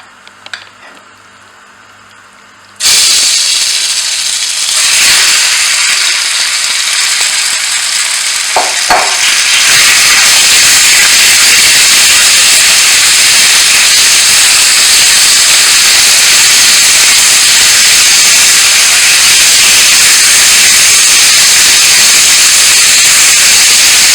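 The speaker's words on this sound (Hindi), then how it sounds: "सबसे पहले हम चिकन को जो है फ्राई कर लेते हैं। उसके लिए मैं सबसे पहले लूँगी 2 टेबलस्पून ऑयल।" Marinated chicken dropped into two tablespoons of hot oil, a loud, close, continuous sizzling hiss that starts abruptly and holds steady for the rest of the clip, after a few light clinks, with no talk.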